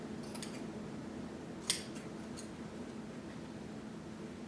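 Scissors snip through fabric while a monster puppet is being made, a few faint crisp cuts with one sharper snip standing out against a steady background hum.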